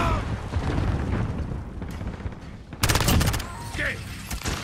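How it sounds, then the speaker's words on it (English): Grenade blast and gunfire in Call of Duty: Modern Warfare multiplayer on the Rust map, a rumbling battlefield with a sudden sharp burst of rapid shots and a boom, with game voice callouts around it. "Grenade out!"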